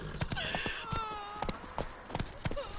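Hooves of the horse Roach in The Witcher 3 clop in a quick, regular running rhythm, fairly close and crisp, with game music and a short voice line over them.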